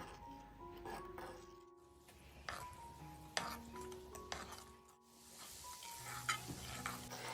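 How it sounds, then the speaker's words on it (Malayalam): Pieces of chapati snack fry in oil over a low flame and are turned with a spoon until golden, a steady soft sizzle broken by scraping stirs and light clinks against the pan. "ഫ്ലെയിം കുറച്ചിട്ടിട്ട് വേണം ഇതുപോലെ ഒന്ന് സ്പൂൺ വെച്ച് ആക്കി എല്ലാം ഒരു ഗോൾഡൻ നിറം ആവുന്നത് വരെ ഫ്രൈ ചെയ്തെടുക്കണം"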